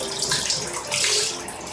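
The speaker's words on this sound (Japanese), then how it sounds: "お湯でまず顔をぬらしていきます" Hot water runs steadily from a tap to wet the face during a morning skincare routine, a close, continuous splashing rush with no talking.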